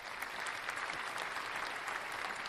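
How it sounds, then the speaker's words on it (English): A radio show audience applauds after a live musical performance, with steady dense clapping at moderate distance and no voices on top. "another round of applause"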